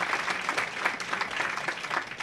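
Crowd at a professional women's bowling stepladder final in a packed bowling alley, clapping and cheering steadily and fairly loudly throughout.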